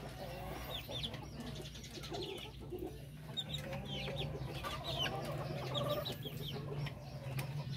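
Darag native chickens cluck and chatter in a backyard farm, with several birds calling close by over a low steady hum, and a faint rooster crow rising briefly amid the flock.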